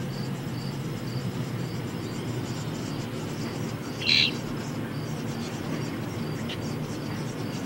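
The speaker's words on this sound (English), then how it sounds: "Hear the wrens?" Wrens calling outdoors: a single short, bright chirp about halfway through rises briefly over a steady wash of background noise, with no other distinct calls.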